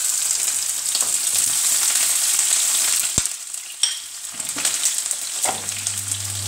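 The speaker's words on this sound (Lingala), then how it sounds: "Siko nazo tia matungulu bandeko." Chopped onions tipped into a hot pan for a beef and bitekuteku greens dish, giving a loud continuous sizzle and hiss that falters briefly with a couple of sharp clatters before the steady frying resumes.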